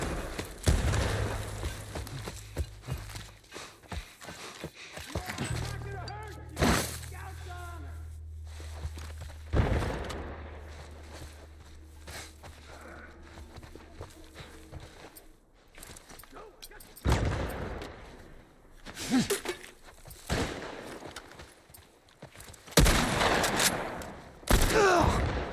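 Sniper gunfire in The Last of Us Part I: sharp, widely spaced shots crack out among game footsteps, thuds and a low ambient drone, with speech over parts of the stretch.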